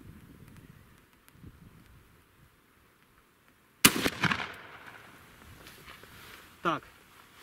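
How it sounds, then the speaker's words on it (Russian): A single ATA Arms Neo12 shotgun fires buckshot through a cylinder choke, one sharp loud blast midway through a quiet outdoor moment, followed by a short echoing tail and a brief later noise. "Стреляем с упора точно в центр."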